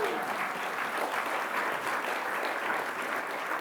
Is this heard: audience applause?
yes